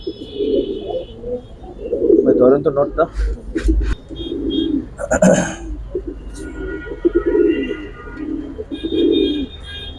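Old Afsan pigeons coo in low rolling bursts throughout, mixed with someone speaking close by and some handling noise.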